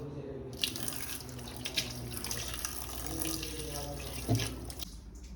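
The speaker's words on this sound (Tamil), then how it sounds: "ஃபஸ்ட்டு சிக்கனை பாண்டில் போட்டு நம்ம வாஷ் பண்ணிடலாம்" Running tap water pours over raw chicken in a pan, a steady wash of splashing water throughout with a few brief clinks and knocks near the end, close and moderately loud.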